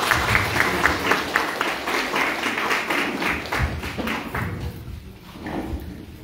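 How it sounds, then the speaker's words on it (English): Audience at a National Tourism Day event applauding, a steady wash of clapping that fades toward the end, moderately loud and without speech. "A round of applause for Kokar sir for setting the stage"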